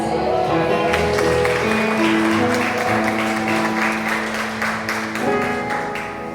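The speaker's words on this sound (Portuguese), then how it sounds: "Você se senta glorificando o nome do Senhor com palmas." A church congregation claps along in steady rhythmic beats over sustained music and voices, the clapping dense and close throughout, with talk mixed in.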